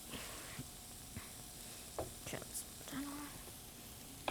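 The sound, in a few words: steak tips sizzling as they are flipped on the grill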